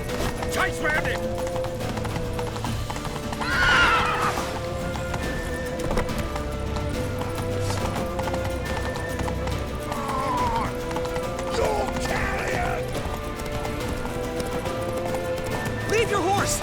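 Horse hooves clip-clop at a gallop with a neigh or two in The Witcher 3 video game, steady under frequent shouted speech and game sounds.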